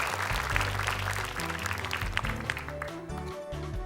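A studio audience applauds for team Ahmad on an Indonesian Quran-memorisation contest show, with steady, loud clapping across the whole stretch and low music or hum underneath.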